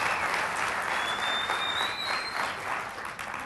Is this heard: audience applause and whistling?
yes